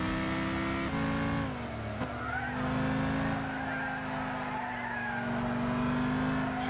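A car in Gran Turismo 6 brakes hard and skids, with a steady droning engine note and a tire squeal that holds, dips briefly, then keeps going, loud and close.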